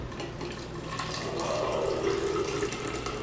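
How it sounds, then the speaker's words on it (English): Green juice streams into a big glass, a steady watery pour that swells in the middle and fades near the end, close and alone without talk. "I'm going to have to pour some in this big glass here"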